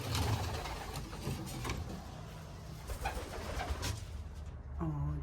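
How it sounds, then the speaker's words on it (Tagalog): Pigeons being released from a backyard loft, with soft cooing and fluttering wing bursts over steady outdoor background noise, a brief clearer call near the end. "Magpalipad ako ng kalapati ngayon"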